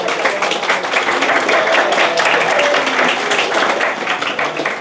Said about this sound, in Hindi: ताली किस बात की बज रही?